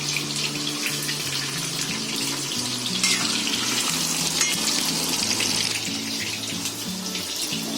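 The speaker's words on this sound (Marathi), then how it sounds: "आपले चिकनचे पीस बघा मस्त फ्राय झालेत आहे" Chicken pieces for chili chicken fry in a pan with a loud, steady, close sizzle and crackle, continuous throughout, over a faint low melodic background.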